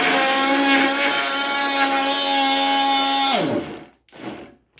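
A Ryobi brushed oscillating multi tool whines steadily at high pitch while cutting, then its motor winds down about three and a half seconds in, followed by brief handling noise.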